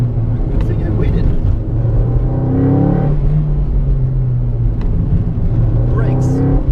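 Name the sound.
1994 Toyota MR2 engine while driving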